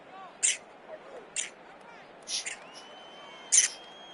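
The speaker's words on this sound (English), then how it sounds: "I'm just playing around with my little bird." Pet bird chirping, four short high tweets spaced a second apart, fairly close, over a quiet background with a faint low murmur.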